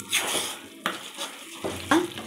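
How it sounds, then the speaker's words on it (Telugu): Hot Mysore Pak mixture being stirred in a pan, with scraping strokes of a utensil against metal and a soft sizzle, a few distinct sweeps, close and clear with no talk. "ఇది పోసుకొని వేడిది తిప్పుకుంటూ ఉండాలి"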